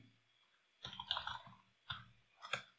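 Computer keyboard keys pressed to run a Python code cell, shift then enter: a cluster of close clicks followed by two more separate key taps, crisp against near silence, with no speech.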